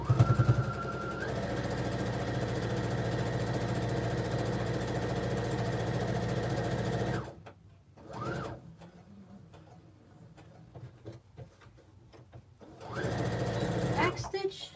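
Sewing machine running steadily as it backstitches across the handle of a quilted cell phone pouch, a continuous mid-pitched motor whir for about seven seconds, then quieter gaps with short bursts of stitching and a final run near the end.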